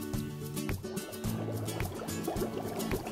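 Dry ice dropped into an inch of warm water in a bowl bubbles and gurgles steadily, a close, soft, continuous churning with small liquid pops.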